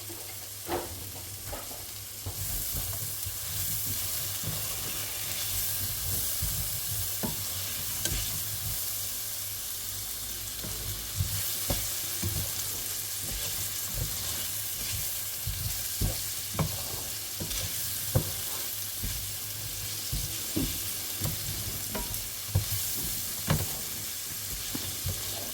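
Chopped onion and garlic sizzle steadily in a hot pan as they are stirred and browned for fried rice, with frequent light clicks and scrapes of the utensil against the pan.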